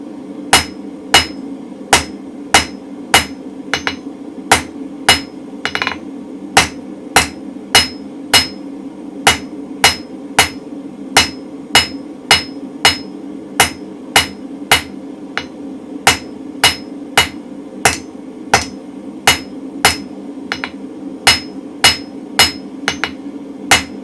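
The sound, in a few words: hammer planishing the flat faces of a steel round punch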